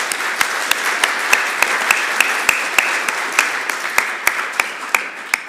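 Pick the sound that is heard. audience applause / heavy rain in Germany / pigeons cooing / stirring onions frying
audience applause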